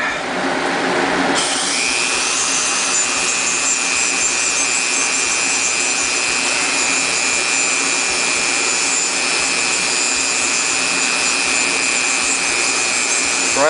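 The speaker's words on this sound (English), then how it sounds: "Grind off all the copper, because you want a zinc planchette." A small power tool grinds the copper off a penny with a high, steady whine after a rougher start, loud and close throughout.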